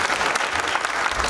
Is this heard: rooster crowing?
no